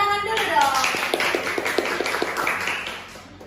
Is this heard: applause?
yes